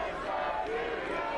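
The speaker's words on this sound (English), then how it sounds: "Crowd here quite vocal." A vocal soccer stadium crowd at a Monterey Bay FC home match against Sacramento Republic FC, a dense sustained roar of many voices with chanting, heard at a distance and unbroken.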